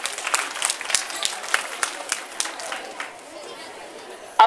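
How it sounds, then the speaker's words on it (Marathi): Audience at a women's service organization event applauding to welcome a guest, a burst of clapping under a voice that fades out. "जोरदार टाळ्या वाजवून सरांचं स्वागत करावं"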